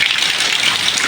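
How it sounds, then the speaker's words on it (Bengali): Heavy rain pours down outside onto flooded streets, a dense, loud, unbroken hiss of drops hitting surfaces, steady throughout the short stretch with no voices. "দেখেন বাইরে কি পরিমাণ বৃষ্টি হচ্ছে, রাস্তাঘাট একদম ডুবে গেছে পানি জন্য।"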